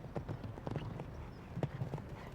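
A show jumping horse's hooves strike white sand on an eventing course, faint, soft thuds in an uneven cadence at a distance, with no voices over them.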